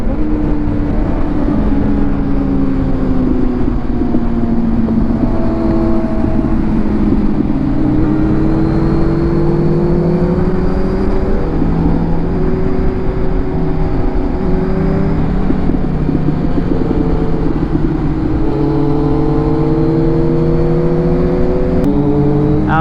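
A Yamaha YZF R1 sportbike engine roars and revs continuously for over twenty seconds, loud and close, its pitch rising and falling as the throttle is worked.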